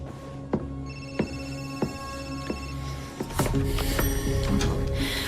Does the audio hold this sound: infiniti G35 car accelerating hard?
no